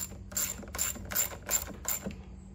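A ratchet tightening bolts on a propane conversion kit for a Powerhorse 2000 inverter generator: five or six rhythmic bursts of loud, close clicking pawl strokes, with no voice.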